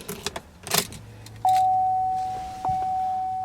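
Keys jangle briefly inside a Chevrolet Caprice PPV police car with its hood open, followed by a steady electronic warning chime tone that continues, close and clear without talk.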